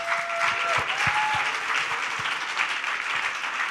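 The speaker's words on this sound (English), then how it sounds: "Let's give a round of applause for our brilliant panel." A conference audience applauds a regulatory and compliance panel, a steady wash of many hands clapping from a moderate distance that holds evenly throughout, with a couple of faint voices mixed in.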